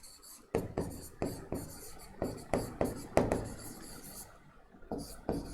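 Marker or chalk strokes scrape across a board while points are written during an electrical machines lecture. About a dozen short, rhythmic rubbing strokes come close and clear with brief gaps between them.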